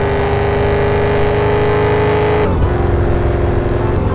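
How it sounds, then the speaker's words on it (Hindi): Mustang car in the video game Car For Sale, loud sustained engine roar accelerating hard with a brief gear change midway, then continuing at high revs. "ये गाड़ी 150 तक चली गई"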